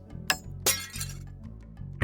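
A glass shattering effect for the Spirit Island card Shatter Homesteads, with two sharp crashes and a tinkling clink over a low humming game tone, close and fairly quiet.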